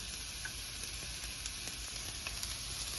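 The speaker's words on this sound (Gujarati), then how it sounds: "એની અંદર આપણે નાખશું પેલા ડુંગળી, અને ડુંગળીને થોડી વખત સોતરશું આપણે." Chopped onions and green peas sauté in hot oil in a pan, giving a soft, continuous sizzle with faint scattered crackles and no voices.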